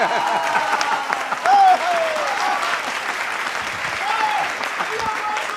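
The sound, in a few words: audience applause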